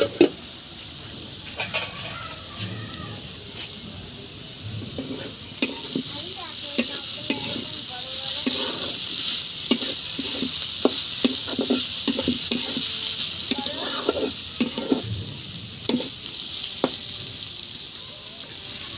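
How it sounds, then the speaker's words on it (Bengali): Bitter gourd fry sizzles steadily in a pan at low heat while a spatula stirs it, giving repeated close scraping strokes over a continuous hiss, with a rooster crowing faintly in the background. "এবার আমি ঢেকে দিয়ে আস্তে জালে ভাজিটা ভাজবো"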